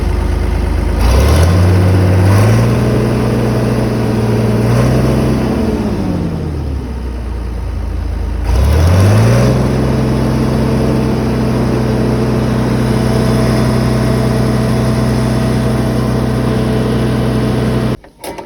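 A John Deere combine harvester engine runs near and steady with a low hum, revving up twice and settling back to a smooth, quiet idle, with no talking.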